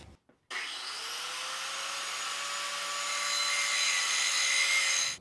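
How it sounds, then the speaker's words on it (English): A grinder works steadily on small nuts, cut down to fit a Bronco roof rack, with one brief start-up burst and then a continuous loud whine that gradually rises in intensity before cutting off, with no speech. "So I finished grinding down the nuts."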